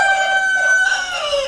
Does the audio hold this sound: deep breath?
no